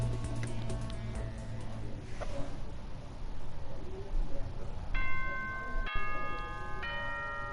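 The chime before the nighttime announcement in the Danganronpa Trigger Happy Havoc video game, a series of clear bell-like tones ringing out in the second half over a background bed of game sound, without speech.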